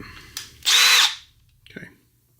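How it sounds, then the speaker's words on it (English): A power drill bores a full-size hole in a broken instrument cluster tab from an E30, heard as one short loud whining burst that stops, then a faint clunk. "Now let's use their drill bit for the full-size hole."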